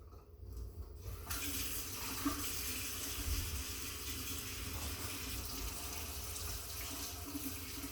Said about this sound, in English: we're going to add 5½ cups of warm water